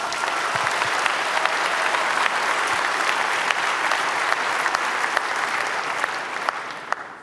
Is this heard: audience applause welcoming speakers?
yes